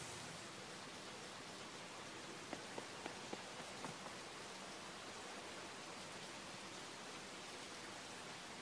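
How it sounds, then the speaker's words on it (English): Steady rain from the video game Super Mario RPG, a soft, even hiss of falling water throughout, with a few faint ticks partway through. "And it's raining because he's crying."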